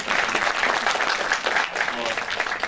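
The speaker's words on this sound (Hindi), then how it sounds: "छोटी तालियां मेरे लिए।" Theatre audience at a national drama festival applauds steadily, a dense, moderately loud patter of many hands filling a few seconds.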